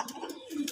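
A native red pigeon gives a brief, soft, low coo, heard faintly and close for under a second.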